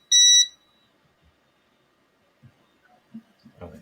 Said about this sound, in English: put pressure, and another beep to let you know that it's begun